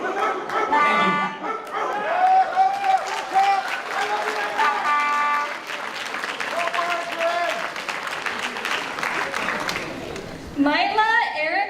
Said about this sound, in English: The dog is barking! The dog is barking!